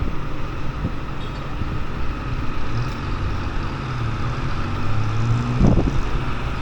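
Strong wind buffets a camera microphone outdoors by a two-storey restaurant in Luang Prabang, Laos, making a continuous low rumble with gusts and a passing engine-like whine near the end.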